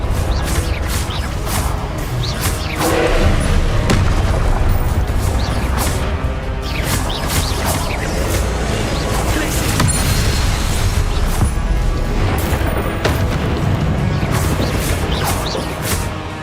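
Spell blasts crash and boom in a Hogwarts video game, loud dense impacts and crackling explosions repeating without pause over constant game noise, with a voice speaking under the din.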